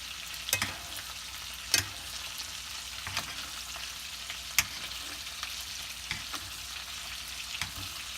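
A reverse-seared steak sizzles in a pan with butter, a steady close frying hiss broken by occasional sharp pops and clicks.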